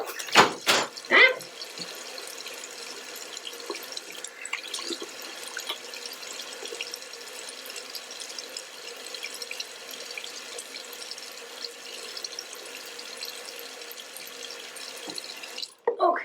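Tap water runs steadily from a faucet to dampen hair, a constant close hiss with a few knocks and splashes at the start and end.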